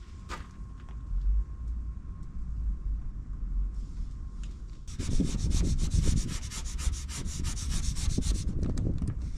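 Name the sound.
rubbing a sign decal onto a truck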